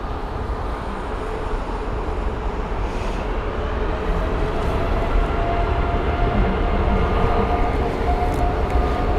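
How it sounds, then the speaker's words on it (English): An Airbus A330neo jet taxiing toward runway 27R at London Heathrow, a steady broad engine roar that builds slightly over the stretch, heard alone without voices. "There's the A330neo. That's heading on over to runway 27 right as well for its departure."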